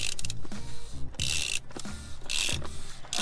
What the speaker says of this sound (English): Grab a ratchet on tighten mode, and you ratchet it